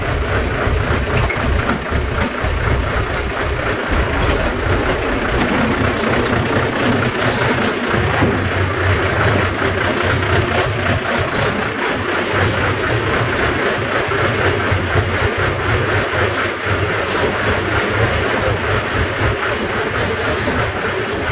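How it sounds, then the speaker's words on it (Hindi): A tractor engine runs steadily on a farm, a continuous low mechanical rumble with a constant idling throb, loud and close, holding at the same level throughout without any talk. "ओहो मैडम जी ट्रैक्टर चला रही"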